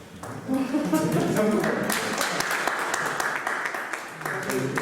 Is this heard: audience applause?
yes